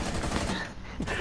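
Rapid gunfire bursts crackle densely in Rainbow Six Siege, close and loud, with a brief dip before the shooting resumes.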